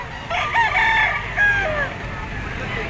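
A young stag rooster, straight-combed and yellow-legged, crows once at a poultry auction market, a close, clear call rising and falling over soft background murmur.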